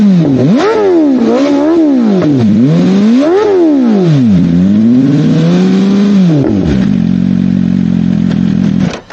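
BMW M1000 R motorcycle fitted with an SC Projects exhaust, revved hard several times in rising and falling sweeps before settling to a loud, steady idle burble, close and alone.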